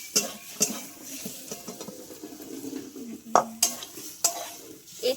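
Banana stem (thor) being stir-fried vegetarian-style in a pan: repeated sharp scrapes and clinks of a spatula against metal over a soft sizzle, close and irregular, with no talking.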